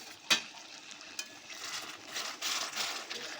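Chicken sizzles and fries quietly in a pan during home cooking, a soft steady crackle with a sharp clink of a utensil near the start.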